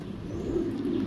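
Baby pigeons give a soft, low, continuous coo close by, faint and alone with no talk over it.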